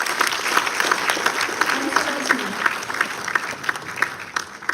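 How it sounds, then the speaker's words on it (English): Steady applause from a lecture-hall audience at a university constitution lecture, dense clapping with a few sharp individual claps, sustained throughout at moderate loudness, a voice briefly audible beneath. "I think they need a bigger applause than Seema does."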